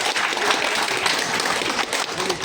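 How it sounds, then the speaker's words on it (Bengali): An audience claps in welcome for a speaker at a political gathering in Dhaka, a steady wash of applause from many hands, fairly close and continuous. "সবাই করতালি দিয়ে তাকে আমরা"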